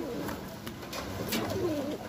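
A checkered pigeon in a loft gives soft, low cooing calls in a short, rolling phrase, close by over faint background noise.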